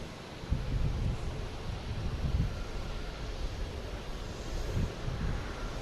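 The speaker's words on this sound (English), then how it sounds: "we got Japan Airlines coming in from Tokyo." A Japan Airlines Boeing 787 Dreamliner arriving at Boston Logan from Tokyo, a distant low engine rumble mixed with gusty wind noise, with faint low thumps rising and falling throughout.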